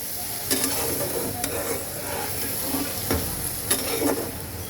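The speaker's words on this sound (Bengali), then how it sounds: "এবার মশলাটাকে কচুটাকে জলের সাথে সুন্দর করে মিক্সড করে দেব" Spice masala and taro being stirred with water in a pan, a steady wet scraping and soft sizzle with a few louder spoon knocks against the pan at irregular intervals, close and alone.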